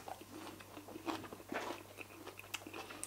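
Crisp bites and chewing on air-fried chips, a series of close crunchy snaps spread over a few seconds, with no talk.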